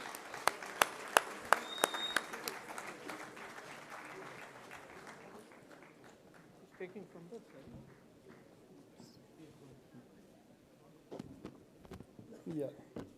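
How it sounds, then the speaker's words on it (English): Audience applause at a university web portal launch event, with dense clapping loudest at the start and gradually thinning out into scattered claps and murmuring crowd voices. "Can we have a huge round of applause for Mr. Singh, please?"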